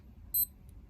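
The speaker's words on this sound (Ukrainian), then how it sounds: "Щоб перейти в наступний режим, натискаємо ліву нижню кнопку." Naviforce Fly digital watch giving a single short, high electronic beep as its bottom-left button is pressed, clear against a quiet background.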